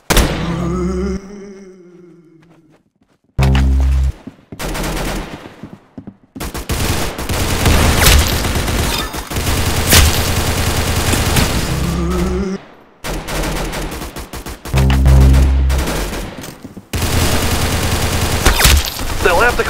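Rapid bursts of gunfire and shooting from the Arsenal video game come loud and close, with repeated volleys broken by short silent gaps across the clip.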